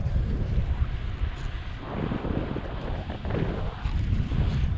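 Strong wind buffets the microphone while cycling on a windy day in the countryside, a loud, continuous rumbling roar with uneven gusts throughout and no talking.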